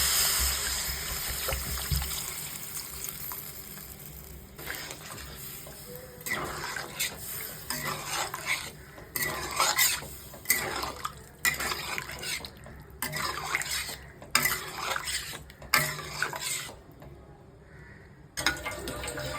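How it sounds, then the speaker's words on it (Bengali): Water poured into a pot of curry with potatoes and fried spices, followed by stirring: splashing and trickling give way to repeated clinks and scrapes of a utensil against the pot, close and moderately loud, with no talk. "মশলা কষে গেছে এবার আমি জল দিয়ে দেবো"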